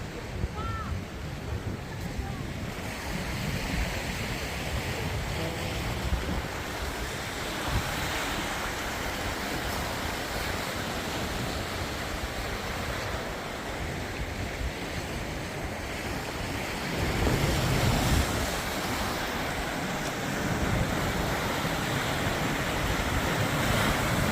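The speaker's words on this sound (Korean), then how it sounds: "아무리 들어도 실증하지 않는 이 파도 소리 정말 귀한 소리다" Ocean waves wash and crash continuously against a rocky shore along a coastal walking path at Jeongdongjin, South Korea, a steady roaring surf with wind, swelling louder toward the end.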